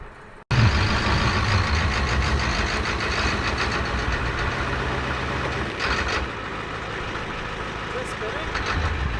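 A dually pickup truck's engine revs steadily and loudly while trying to back out of a stuck spot on flat ground, a sustained rumbling drone with a brief dip in pitch partway through.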